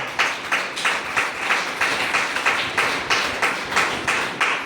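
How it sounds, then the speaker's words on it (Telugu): Rhythmic congregational clapping at a church prayer service, loud and steady with about fourteen even claps sounding together in a sustained beat. "చప్పట్లు కొట్టండి గట్టిగా"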